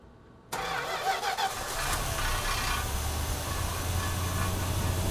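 A 1974 Plymouth Cuda, stored for 52 years and running a little lean, cranks and fires abruptly, then settles into a loud, rough, steady V8 idle close by, no voices.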